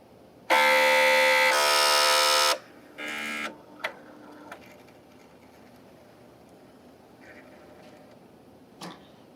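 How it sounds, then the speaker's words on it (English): A Bernina L890 sewing and embroidery machine powering on: a loud two-part electronic tone, a shorter beep, then faint mechanical clicks and brief whirs as its motors engage, with a final soft click. "all the motors inside will engage, making a bit of a noise"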